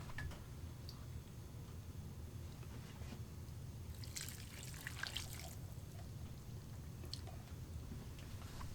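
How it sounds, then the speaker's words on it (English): Big dollops of water are poured into a BN-LINK 10-gallon fabric grow bag used as a worm bin, giving brief soft splashing and trickling bursts midway over a constant low background hum. "I'm going to go ahead and add in a couple big dollops of water in here."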